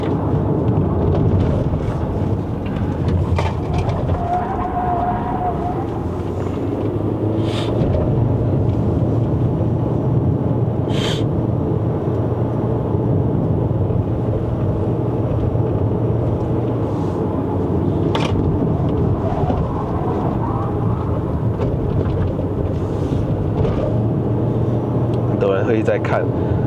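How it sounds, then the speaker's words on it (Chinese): Loud tyre roar inside a 2024 GWM Haval H6 HEV hybrid SUV driving uphill to Genting in Malaysia: a constant deep road rumble with occasional thumps, continuing throughout, with voices talking at times. "怎么那个轮胎的声音这么大声呀"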